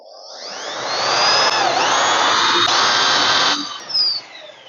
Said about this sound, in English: That is the hole drilled.